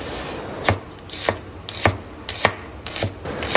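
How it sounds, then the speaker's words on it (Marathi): Knife slicing an onion lengthwise on a cutting board, six evenly spaced crisp cuts close up, steady rhythm with no talking. "आता आपण कांदा उभा चिरून घेऊया।"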